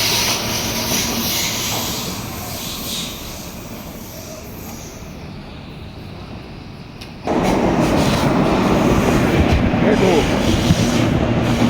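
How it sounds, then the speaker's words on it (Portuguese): A train passes close by on a rail line: a steady rumbling roll with faint clickety-clack that swells suddenly louder partway through as the cars go past, with little talk. "Mais um trem."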